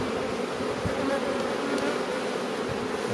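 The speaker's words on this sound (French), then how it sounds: "Les abeilles restent relativement cool encore" Honeybees at a busy beehive during a July nectar flow, the colony calm and strong, give off a dense, steady buzz that fills the air close up without a break.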